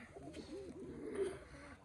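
Several pigeons at a home loft coo in soft, overlapping rolling calls, close by and steady throughout, with no talk.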